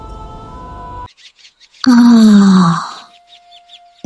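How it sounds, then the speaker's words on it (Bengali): A king cries out in pain after being struck by magic: one loud, drawn-out wail that slides downward for about a second, set between quieter tonal background sounds. "যন্ত্রণার চিৎকার করছে রাজা।"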